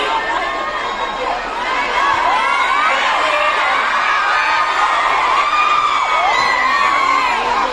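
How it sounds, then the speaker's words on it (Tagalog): A large crowd at Vice President Sara Duterte's speech in Hong Kong shouts and cheers her name. The whoops and overlapping yells stay loud and continuous throughout. "Dahil kayo ay sumisigaw ng Duterte, suspended na kayo lahat."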